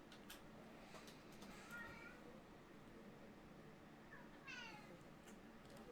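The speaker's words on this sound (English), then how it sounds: "Can you hear the cats in the background?" Cats meowing in the background of a quiet room, two drawn-out meows a few seconds apart, faint against a low steady hum.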